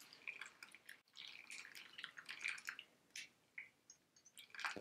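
Pour-over coffee drips through a paper filter into the brew below, an irregular run of small wet drips and trickles, close and fairly quiet, with no voices.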